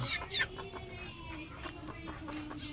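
A broody hen clucks softly in a quick, repeated rhythm, close by, with other fowl murmuring faintly in the background.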